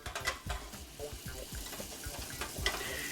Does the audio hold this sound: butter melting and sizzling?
yes